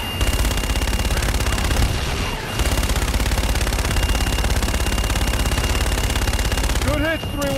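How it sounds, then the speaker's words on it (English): An aircraft strafing gun run in Call of Duty: Infinite Warfare, heard as a loud, continuous rapid-fire cannon burst that briefly pauses and resumes. Voices talk over the firing. "Inbound for gun run. Guns, guns, guns!"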